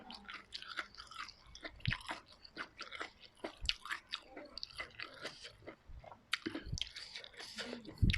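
Crispy food is chewed close to the microphone, with repeated crunchy bites and wet mastication sounds in an uneven rhythm, fairly quiet, with a voice briefly heard between mouthfuls.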